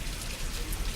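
Steady rain falls on a street in Miraflores, a dense, even patter heard up close with no pauses.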